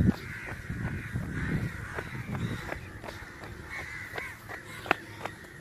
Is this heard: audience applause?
no